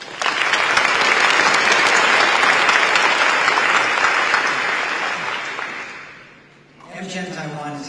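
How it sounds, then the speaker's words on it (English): A banquet audience at AmCham Taiwan's annual business dinner bursts into loud, sustained applause that gradually fades out, after which a voice begins speaking. "Let's give a round of applause for the unwavering support of staff in making this"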